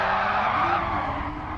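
A race car skids under early braking at a 2.4-hour Le Mans race, its tyres squealing in a loud, sustained screech over the engine's roar, close and steady throughout.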